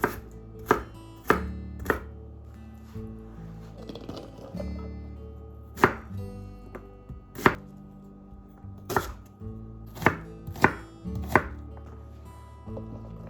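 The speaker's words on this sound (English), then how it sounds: "I'm just gonna do a rough chop because we're gonna blend it" A knife rough-chops vegetables for chicken noodle soup on a cutting board, with sharp, uneven knocks in irregular bursts, some quick pairs and some lone hits, close and clear with no talking.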